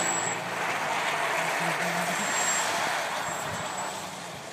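A Subaru car plows through a sand dune, its engine and churning sand making a steady, broad roar that fades slightly toward the end, with no voices.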